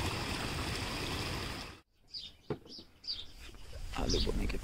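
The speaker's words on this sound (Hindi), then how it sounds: "ये रहा यहाँ का धारा, यहाँ पर पानी आता रहता है हर टाइम" A mountain spring stream pours steadily and loudly close by, then drops out for a moment before its flow returns. Birds chirp in the gaps and there is light handling noise.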